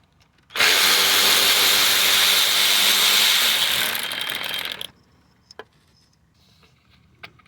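Power ratchet undoing the 13mm nut for the positive cable on a Toyota Corolla starter, a loud continuous whirring burst of about four seconds, followed by a few faint clicks and taps.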